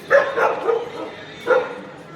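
Dogs barking at night near the Darbar Sahib entrance, a few separate barks in two clusters with a pause between, fairly close against a quiet background.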